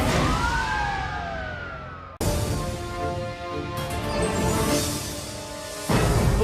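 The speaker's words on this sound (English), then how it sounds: "Police sirens ring out at 120 decibels." A police car siren wails with sweeping rising and falling tones, loud and continuous, cutting abruptly between segments over road noise, with no talking.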